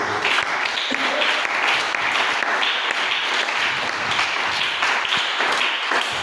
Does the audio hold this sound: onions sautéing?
no